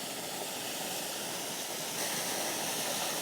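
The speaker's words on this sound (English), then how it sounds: "Hope you can hear me over the waterfall." Steady broadband rush of Grey Mare's Waterfall in the Scottish Borders, continuous and fairly close, swelling slightly louder partway through with no voices over it.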